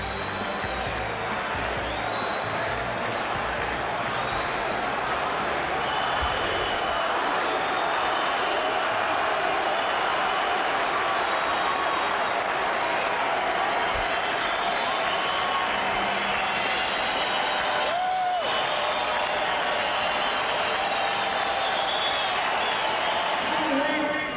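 Boxing arena crowd at a women's bout featuring Laila Ali, roaring with sustained cheering, applause and whoops for Muhammad Ali's arrival, loud and continuous throughout, with a commentator's voice faintly underneath.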